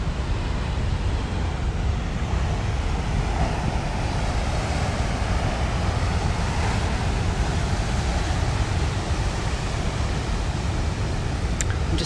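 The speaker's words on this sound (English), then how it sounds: "And I hope you can all hear the sea." Sea waves wash against the rocks of a harbour in a steady, broad rushing roar with wind noise, continuous and fairly loud, with no talking.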